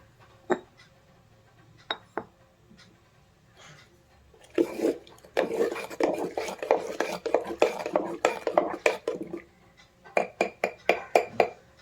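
Homemade grape wine is strained into a steel vessel: a few isolated clinks, then a busy run of rhythmic clattering, sloshing and metal clinks, close by and fairly loud.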